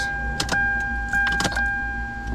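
A 1996-2002 Toyota 4Runner fuel pump primes with a steady electric whine for a couple of seconds, a low rumble underneath, broken by a few short clicks and rattles.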